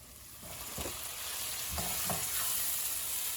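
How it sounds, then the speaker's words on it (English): Tomatoes hit golden fried onions in a pan for a keto kidney bean and black soybean curry, bringing a steady, quiet sizzle with a few soft stirring scrapes partway through. "At this point, I'm adding the tomatoes."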